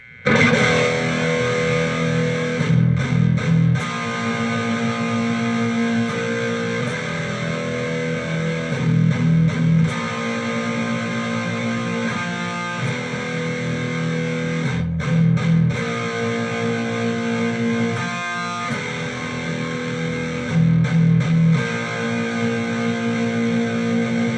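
At a slow pace, a distorted electric guitar plays the intro riff of a song, mixing power chords with a pick slide or two, chugging loudly and continuously with short rhythmic breaks and no voices.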